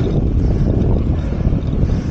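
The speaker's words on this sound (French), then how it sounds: "il y a quand même un peu de vent, donc c'est dur." Wind buffets a microphone while cycling across a plateau, a loud, continuous low roar and rumble that stays steady throughout, with no voices.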